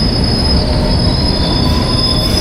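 A London Underground Subsurface Line train's wheels squeal on the rails at a platform, a loud, sustained high-pitched screech riding over a constant rumbling roar, with no voices.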